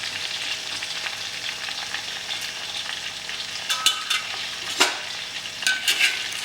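Onion and mutton frying in a pan for a Saoji mutton curry, a steady soft sizzle with occasional sharper clinks and scrapes of a spoon toward the end, close and fairly quiet, no voices.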